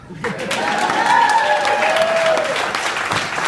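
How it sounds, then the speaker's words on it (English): Wedding guests break into steady, loud applause during a best man's toast, a dense wash of clapping that fills the whole stretch, with a few voices cheering over it. "go ahead, clap."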